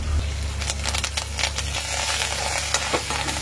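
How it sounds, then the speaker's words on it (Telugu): Peanuts, green chilies, soaked chana dal, urad dal and curry leaves fry in hot oil with a continuous close sizzle, broken by scraping stirs and light crackles, no voices. "వేడెక్కాక ఫస్ట్ పల్లీలు, పచ్చిమిర్చి, సరిపడా ఉప్పు, నానబెట్టిన శనగపప్పు, మినపప్పు, కరివేపాకు, కొత్తిమీర వేసి కలుపుకోవాలి"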